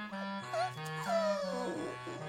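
Cartoon dogs whimper and whine in a children's animated adventure, several drawn-out, wavering high cries and yips overlapping steadily across the moment, fairly close and clear with no talking.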